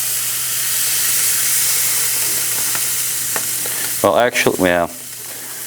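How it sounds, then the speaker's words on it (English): A T-bone steak sizzles loudly and steadily in a pan, a close, even hiss that runs throughout, with a short burst of speech near the end. "Now we can get our steak on there,"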